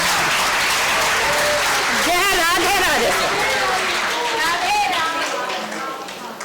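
Dense applause from the audience at a Braj literature festival session, a loud continuous wash of clapping with a voice chanting over it in the middle, easing slightly toward the end.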